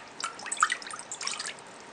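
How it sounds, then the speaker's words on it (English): Fruit juice is poured into a cooking pot, giving a few light splashing and dripping bursts with brief trickles in between, close and quiet with no talking. "pour our fruit juice into the pot"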